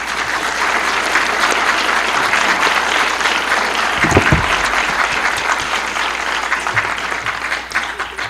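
Steady, loud applause from a sizable indoor audience at a language summit, sustained for several seconds before beginning to thin out.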